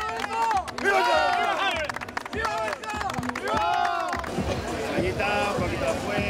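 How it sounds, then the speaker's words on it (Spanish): A crowd at the San Lorenzo festival applauds itself: clapping mixes with shouts and cheering voices in a lively, close, steady din. "¡Aplaudiros a vosotros mismos!"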